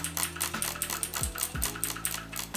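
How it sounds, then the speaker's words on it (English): Clicky mechanical keyboard keys rattle in a fast, steady run close to the microphone, with sharp mouse clicks timed in among the keystrokes. "the mouse clicks really, like the keyboard clicks and my mouse clicks really help"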